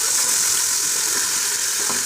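Tomatoes sauté in a hot pan for biryani, a loud continuous sizzle and frying hiss with faint stirring scrapes, steady and close throughout.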